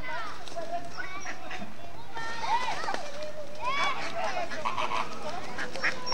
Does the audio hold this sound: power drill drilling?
no